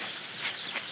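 Lohmann Sandy laying-breed chicks peep and cluck in a short, close burst of overlapping high calls.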